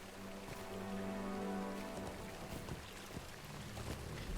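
Steady rain falls in Gondor in the fantasy online game LOTRO, a broad continuous patter and hiss with a soft low rumble underneath, constant and fairly close, with no speech.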